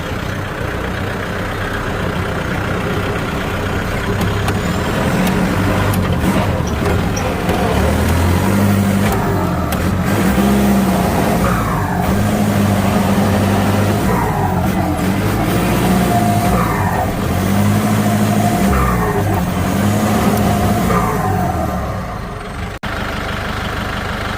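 Kubota L50 tractor fitted with a turbo, running in first gear: a loud, close, continuous engine drone with repeated rising and falling revs and turbo whine, fading slightly at the end.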